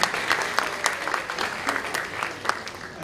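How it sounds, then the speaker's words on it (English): A conference audience at a community radio regional meeting claps for a speaker, a dense patter of many hands at moderate distance, steady over a few seconds with slight swells. "I think a big round of applause once again to our speaker, Sunil Raghupal."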